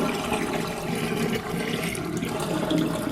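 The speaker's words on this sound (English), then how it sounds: "I'm going to let that out, excuse the noise" Rinse water from dyeing fleece drains steadily from a sink with a continuous gurgling rush, close and fairly loud, with no voices.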